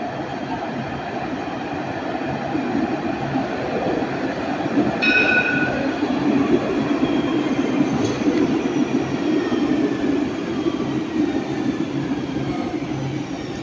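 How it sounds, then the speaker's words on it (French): A tram on lines 1, 2 or 3 passes steadily through the Jean Médecin stop in Nice, a loud continuous rumble of wheels on rail with a brief high squeal and a bell-like tone midway, no voices. "un dernier tram, c'est celui-ci"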